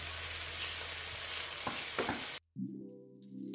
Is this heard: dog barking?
no